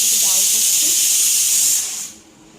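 A pressure cooker cooking dal lets out a loud, close, continuous hiss of steam for about two seconds before it cuts off abruptly.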